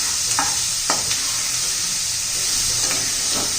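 Spinach rice with peas sautéing in a pan, a steady sizzle and hiss of frying with a few sharp stirring scrapes from a spoon, close and alone.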